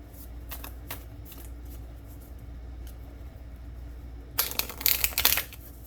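Manifestation moon oracle cards get shuffled, first in soft scattered flicks, then in a brisk, close riffling burst near the end over a quiet room.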